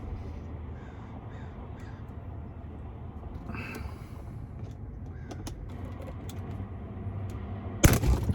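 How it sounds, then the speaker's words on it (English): A steering yoke part on a Tesla Model 3 shears off while being torqued through a 3/8 to 1/4 inch adapter. After several seconds of quiet room noise, one sharp, close crack of snapping metal is heard. "Completely sheared this piece right off."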